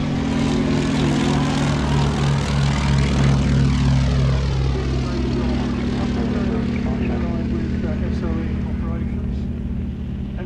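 Vintage Edwardian propeller aircraft fly at Shuttleworth, their engines droning loudly and continuously as one passes close with a shifting pitch, while a commentator talks over the noise.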